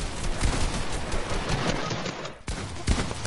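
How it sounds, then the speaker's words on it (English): Dense video game gunfire rattles on continuously, overlapping rapid shots and bursts at close range, with a brief lull before a few more sharp shots. "All I hear is gunshots."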